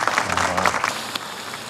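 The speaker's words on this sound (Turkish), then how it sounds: "Şimdi sayın müsteşarımızı alkışlarınızla kürsüye davet ediyorum." Applause greeting an undersecretary called to the podium at a formal ceremony, a brief burst of clapping from a crowd that fades out within about a second.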